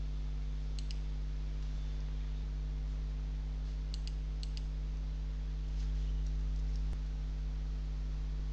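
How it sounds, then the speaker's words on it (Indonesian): Faint clicks of a key being pressed on a computer keyboard, a few scattered light taps over a steady electrical hum with no talking. "kita klik tombol plus di keyboard"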